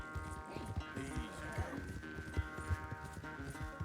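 Horse hooves clip-clopping at a quick, uneven gait in the video game Red Dead Redemption 2, mixed under a continuous bed of game ambience and music.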